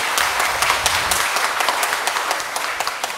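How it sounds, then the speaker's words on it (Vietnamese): Loud, close applause from a Catholic congregation at an ordination Mass, many hands clapping together with sharp individual claps standing out, steady for a few seconds and easing slightly near the end. "Thì bây giờ mọi người cho cả đoàn tràng pháo tay đi."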